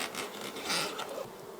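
A swarm of bees that settled in a box buzzes nearby in a steady, dense drone that swells slightly midway, with no talking.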